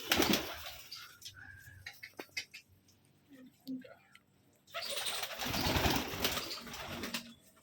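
Pigeons kept in a small enclosure coo and call in bursts, with rustling and wing movement between them, and a dense, louder stretch near the end; people talk in the background.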